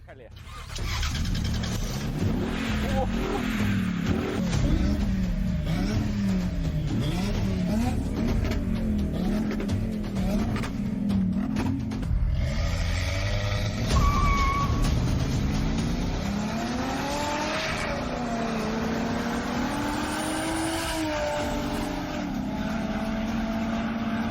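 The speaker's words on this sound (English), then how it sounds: "let's fire up the engines and go" Engines of a 500 hp 2JZ-GTE turbocharged inline-six swapped Toyota FJ Cruiser and a Lotus fire up and rev, with rising and falling engine tones, gear-change sweeps and steady loud drone, while people talk over it.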